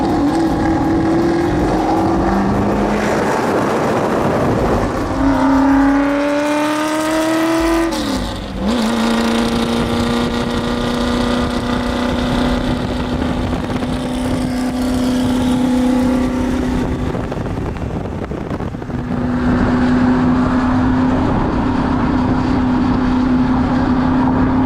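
Shelby GT350 V8 engine pulling hard through canyon roads from inside the car, loud and close, climbing through revs, dropping briefly on a gear change, then holding a steady high drone before rising again.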